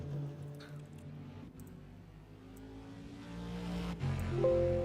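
GT4 race cars in a racing video game at the Potrero de los Funes circuit in the rain: steady engine drones that hum and shift pitch, fairly faint and continuous, with no talking.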